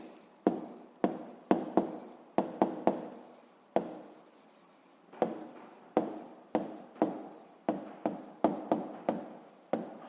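Pen strokes of an answer being written down for a grade 7 physics exercise, a quick run of short scratchy bursts with brief pauses, close and alone.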